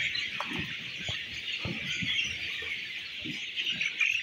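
Chickens on a poultry farm cluck softly and repeatedly over a constant high-pitched hum, with short irregular calls scattered throughout.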